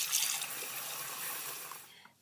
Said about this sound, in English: I'm filling up the sink right now with hot water